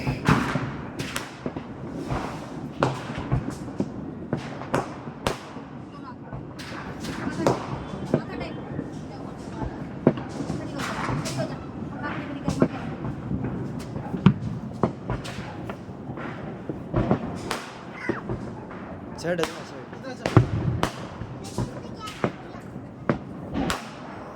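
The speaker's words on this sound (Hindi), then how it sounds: "बम पटाखों की आवाज़ तो आपको आ ही रही होगी" Repeated loud bangs of Diwali firecrackers and bombs going off at irregular intervals, some close and sharp, others duller thuds, with voices in the background.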